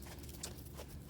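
Small horses clip-clopping on a television in the background, quiet hoof rhythm over a steady low hum, with a faint whinny-like blip; no one speaks.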